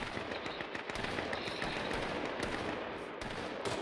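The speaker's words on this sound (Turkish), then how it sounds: "mermi sesleri çok sert geliyor hocam" Gunfire in H1Z1 crackles in rapid automatic bursts with sharp individual cracks, some close and punchy, others further off, layered continuously over a battlefield din.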